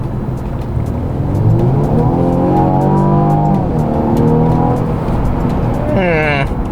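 A Mercedes-Benz E300 coupe engine revs in sport mode, the pitch climbing and sinking through a few surges, with a short sharp burst near the end.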